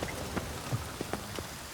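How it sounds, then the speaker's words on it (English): Steady rain falls in a city street of the video game The Witcher 3, a soft continuous hiss with scattered louder drops and splashes, no voices over it. "Oh no, the rain is going to ruin her hair."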